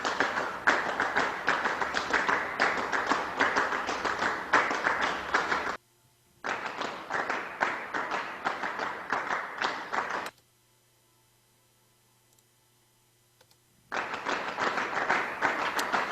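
Rhythmic hand clapping, dense interlocking claps in steady sections broken by abrupt silent gaps before resuming.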